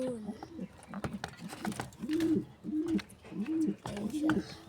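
Pigeons in a homemade coop coo repeatedly nearby, the soft rolling calls coming in a steady series. Light rustling and handling noises sit underneath.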